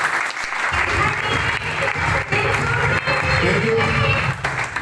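Audience at a sales and business meeting breaks into loud, sustained applause for Ashish sir, dense clapping from a crowd, close and continuous, with voices mixed in.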